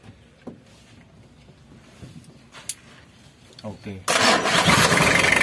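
Mitsubishi L300 van with a freshly installed engine cranks briefly, catches and settles into a loud, steady idle, with a short spoken word just before it starts.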